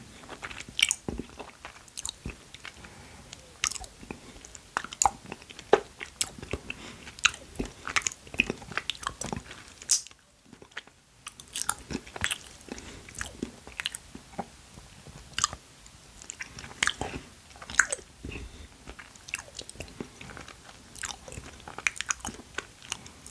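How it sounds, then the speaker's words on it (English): Frozen gummy sweets, including sour melon ones, are chewed up close, giving a long run of irregular crunchy bites and sticky chewing with a brief pause midway, crisp and intimate with no talking. "I keep zoning out because all I'm doing is sat here chewing"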